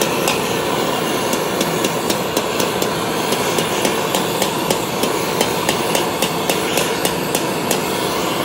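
Hammer blows ring out in a steady series of sharp metallic taps as dings are beaten out of a heated two-stroke exhaust pipe, heard close over a constant roaring background hiss.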